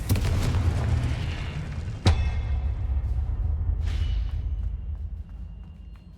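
A Confringo explosion spell goes off in Hogwarts Legacy: a loud booming blast that decays slowly, with a sharp crack partway through and a softer whooshing burst afterward.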